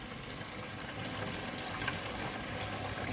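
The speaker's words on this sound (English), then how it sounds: "I'm going to rinse one more time, but we're pretty much there." Steady tap water running while hand-dyed blue Icelandic wool yarn is rinsed in a sink, a continuous close broadband splashing rush with no pauses.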